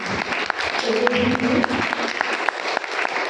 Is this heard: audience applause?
yes